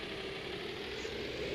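A tractor engine idles steadily at close range, a continuous low rumble with a mid-range drone that holds even and unbroken throughout, with no voices over it.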